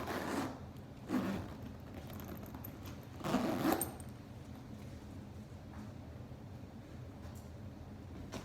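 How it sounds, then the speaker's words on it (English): Zipper on a new-version 2020 Louis Vuitton Palm Springs PM bag, pulled in a few close, crisp rasping strokes with quieter handling in between. "This has the zipper on the outside of the lip now."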